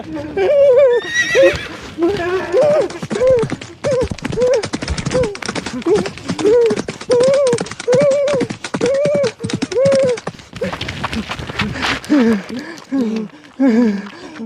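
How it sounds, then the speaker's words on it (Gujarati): A horse neighs and whinnies repeatedly in loud, rhythmic bursts, with shouting voices and frantic commotion over it. "આ ઘોડો રહ્યો ને દારૂ પીને ગાંડો થયો છે"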